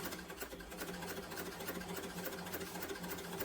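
Close up, a sewing machine runs steadily, stitching around a pocket corner on a sling bag. The whirring and stitching continue without a break, with a faint hum underneath and no voices.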